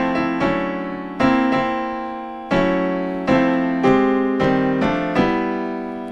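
A piano strikes a series of unrelated, reharmonized chords that sound disjointed, each played firmly and left to ring and decay before the next, about seven in all.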